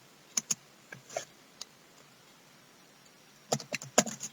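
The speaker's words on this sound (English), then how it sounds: "Okay, now I will type in a message." Computer keyboard typing a message, a few scattered soft keystrokes, then a pause and a quick closer burst of clicks near the end, quiet and close with no talking.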